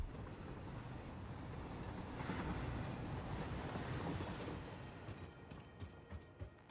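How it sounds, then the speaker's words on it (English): Trains running in Satisfactory, a continuous rumbling rail roar with wheel squeal and clattering, swelling in the middle then thinning out into a few sharp knocks near the end, no voices. "No, the trains are still running."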